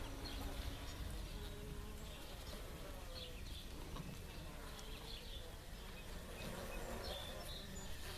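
Bees buzzing inside a top bar hive during a spring inspection, a dense, steady hum that fills the scene at close range, with no talk.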